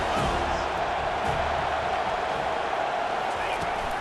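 Stadium crowd noise from a College Football 25 game during a big third down at FSU, a steady, loud roar of cheering that fills the whole stretch without letup.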